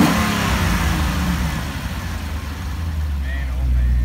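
A 2014 Chevrolet Camaro Z/28 engine rumbles loudly and steadily, rising into a deeper rev toward the end, with a voice talking over it.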